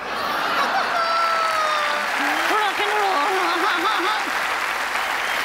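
An audience at a cabaret show claps in a steady, dense wash of applause. A performer's voice is heard over it, along with a little laughter.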